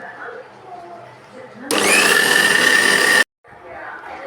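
A mixer grinder grinding coriander leaf chutney whirs loudly for about a second and a half, then stops abruptly, with quieter room sounds and faint voices before and after.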